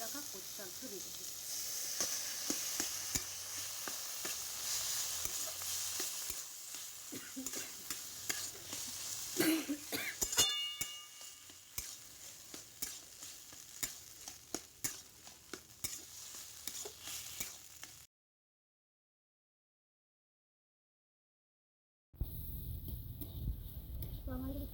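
Boiled taro leaves stirred into spiced masala in a pan, with steady sizzling and frying hiss, scraping stir strokes, a silent gap, then frying sound returning.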